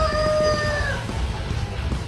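A Rhode Island Red rooster crowing on a free-range farm, one loud, close drawn-out call that trails off after about a second, followed by low background farm noise.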